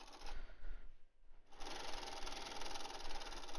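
A sewing machine stitches along the edge of bias binding on a fabric face mask, its motor whirring in a close, steady run that breaks off briefly and then resumes for a longer stretch.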